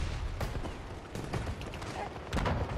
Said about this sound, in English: Just testing the hip fire, guys.